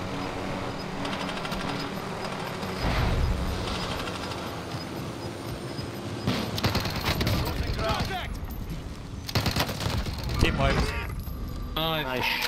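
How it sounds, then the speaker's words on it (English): Gunfire in Call of Duty: Warzone on PC during a trios match, bursts of shots over dense continuous game noise, with players talking throughout. "Nice shots."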